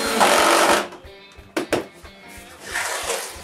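A drill bores a dowel hole into a wooden panel of a Ski-Doo trunk, with two loud whirring bursts separated by a pause and a couple of sharp knocks, close by.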